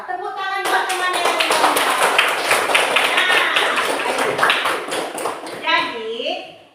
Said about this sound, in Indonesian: Tepuk tangan buat teman yang